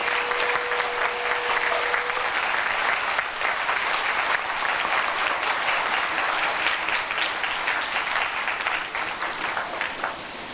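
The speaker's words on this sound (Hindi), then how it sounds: "जोर से तालियां बजाओ कि सफल सिद्धि लेके जाएंगे।" A large crowd at a Guru Purnima spiritual camp gathering bursts into loud, sustained applause, dense and steady for about ten seconds with no voices over it.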